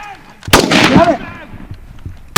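WWII rifles fire during a live-fire squad tactics drill: two sharp, loud gunshots about two seconds apart, the first followed by a booming echo that fades away.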